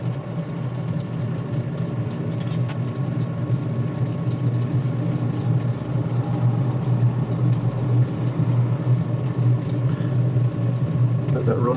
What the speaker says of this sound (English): Tighten it back down slowly. So the knurling wheels can engage in the grooves that have already been made.